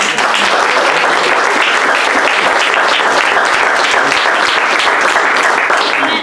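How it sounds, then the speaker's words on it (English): Loud, sustained applause from a crowd, dense and even from start to finish, with no voices standing out. "Round of applause."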